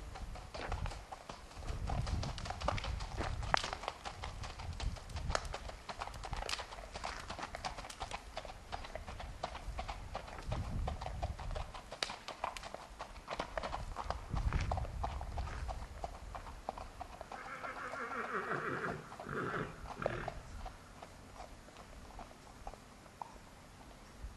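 Fox Trotter mare gaiting, her hooves clip-clopping in a quick, steady rhythm that sounds close by, with a brief whinny-like call near the end.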